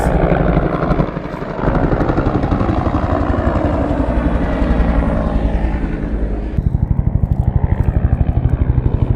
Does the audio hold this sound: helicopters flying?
yes